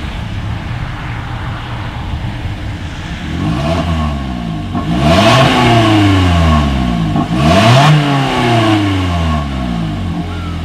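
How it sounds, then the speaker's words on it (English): A 2020 Toyota Corolla's exhaust idles, then rises through two loud revs that climb and fall back, with a steady idle between them. "here is that exhaust clip."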